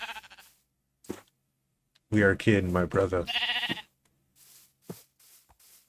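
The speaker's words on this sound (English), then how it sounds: "Oh, it's a black sheep." A sheep bleats in the Minecraft video game, one clear bleat amid a few short game sounds, with a voice speaking over it.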